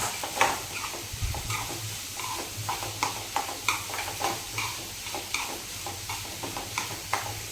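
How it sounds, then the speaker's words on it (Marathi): Onions sizzle in hot oil in a pan while being stirred, with regular scraping strokes over a low steady hiss and no talking. "कांदा मस्त गुलाबी रंग येईपर्यंत परतून घ्यायचा"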